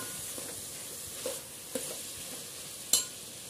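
Tomatoes fry with mint in a pan for vegetable biryani, a soft low sizzle with a few faint stirring scrapes and one sharper clink near the end.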